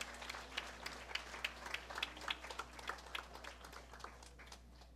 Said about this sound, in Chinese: 让我们以热烈的掌声感谢法王圣尊莲生活佛的赐福。